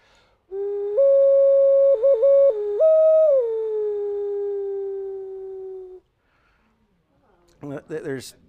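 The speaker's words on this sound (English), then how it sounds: "This is a whistle that was found down there. This is a stone whistle." An ancient Mesoamerican stone whistle is blown with a clear, hollow tone in long sustained notes with a few quick pitch dips, then a brief burst of talking follows.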